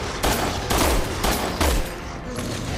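Rapid gunfire in the video game Resident Evil 6, four loud bursts of shots in quick succession, each a sharp crack with booming low end, no voices over them.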